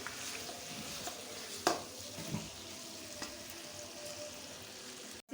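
Chopped tomatoes and tomato puree sizzle quietly in a pan for a mixed vegetable curry, a soft continuous hiss broken by a few light stirring clinks and a sharp knock near the end.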